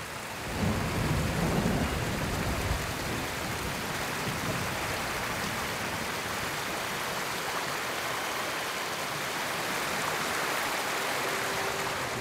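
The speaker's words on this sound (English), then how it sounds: "Under the waterfall." Steady rushing water and rain from a waterfall in the video game Ghost of Tsushima, a dense, continuous roar, with a low rumble in the first few seconds, holding level throughout with no voices.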